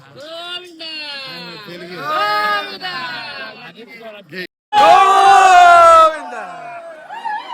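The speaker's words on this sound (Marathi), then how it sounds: "तर भावानो इथं बघा किती गर्दी आहे" A dense crowd of people at Balaji darshan, with loud nearby voices yelling and calling out in long drawn tones, rising to a strong burst of shouting before easing off.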